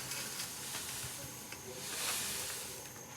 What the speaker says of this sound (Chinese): 油热直接下锅。 炸个15分钟